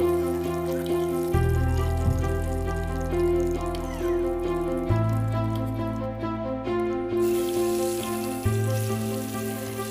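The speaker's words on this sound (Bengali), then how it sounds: "আর বাকি মাছগুলোকে এভাবেই ভেজে নেব।" Boal fish pieces frying in a pan, a steady sizzle running the whole time beneath a loud, droning tonal hum that shifts pitch in a few abrupt steps.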